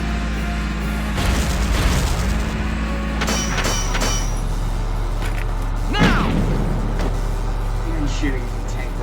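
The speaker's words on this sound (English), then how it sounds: "Shooting the tank rocket point blank" A tank rocket fires at point-blank range in Valkyria Chronicles, a deep boom over a steady low engine rumble, with mechanical clanks and a later impact burst while a voice talks over the game audio.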